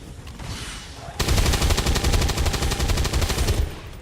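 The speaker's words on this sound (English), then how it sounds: "Full auto fire." Full-auto gunfire in the video game XCOM 2, a sustained rapid burst of loud shots lasting a couple of seconds after a quieter lead-in.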